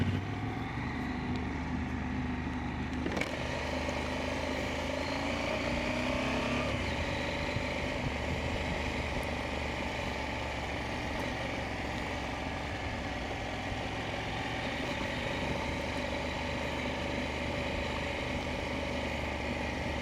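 An enduro motorcycle in off-road ride mode rolls along a dirt road near a hidden cove, its engine droning steadily with a brief surge of revs early on and a constant rumble throughout.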